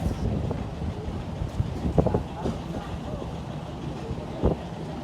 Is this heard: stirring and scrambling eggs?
no